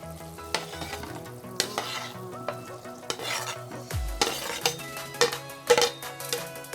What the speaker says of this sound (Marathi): आता आपल्याला ह्या बाकीच्या सगळ्या भाज्या टाकून द्यायच्या.